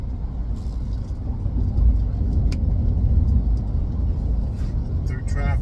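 A car drives through traffic entering Charlotte, North Carolina, with a steady low engine and road rumble, a near, continuous drone with faint clicks over it.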